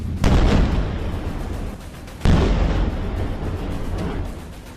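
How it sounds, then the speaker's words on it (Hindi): Missile strike explosions in Jerusalem during an Iranian attack on Israel, heard as two heavy booming blasts a couple of seconds apart, each leaving a long rumbling decay and a dense background roar. "ये तस्वीर यरूशलेम पर मिसाइल हमले की है।"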